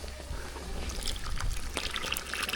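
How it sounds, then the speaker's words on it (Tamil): Tamarind water trickles and pours into a pot of sambar, a steady liquid dribble with faint splashes, fairly close and continuous with no talk. "சாம்பாருக்கு கடைசியாக புளி தண்ணி சேர்த்துக்கலாம்"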